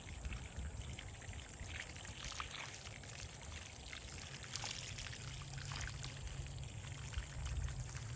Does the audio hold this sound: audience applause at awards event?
no